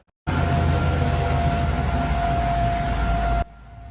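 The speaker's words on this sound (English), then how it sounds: "Tornado sirens sounded in Mississippi overnight as several large tornadoes moved through the area." A civil defense tornado siren sounds in Mississippi overnight during a tornado outbreak, a loud, steady sustained wail that holds for about three seconds before cutting off abruptly.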